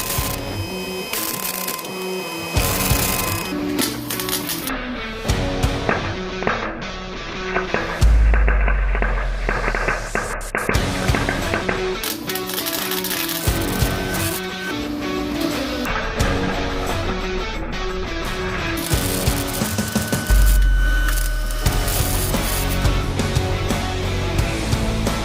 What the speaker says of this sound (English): I'll be using my welder